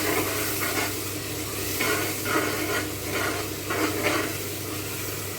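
Spices with a spoonful of garam masala fry in a pot for vegetable pulao, giving a steady, close hiss and sizzle. Faint stirring swishes rise and fall a few times on top, with no talking.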